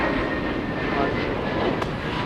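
A heavy jet airliner at Los Angeles International Airport gives off a loud, continuous broadband engine roar that holds steady throughout, dense and close.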